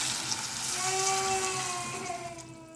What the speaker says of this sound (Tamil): தேவையான தண்ணி ஊற்றிக்கலாம்.